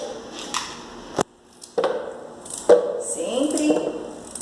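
A knife chops through carrot, giving several distinct, close, sharp thuds at irregular intervals, with some softer knocks and scraping between them.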